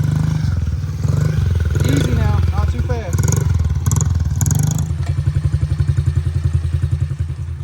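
A small Honda CRF 50 dirt bike engine buzzing close by as a child rides it, steady and putting at low speed with some clatter, while an adult talks over the engine.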